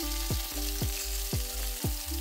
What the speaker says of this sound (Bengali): আরও 1 মিনিট মতন মাছগুলোকে ভেজে নিতে হবে।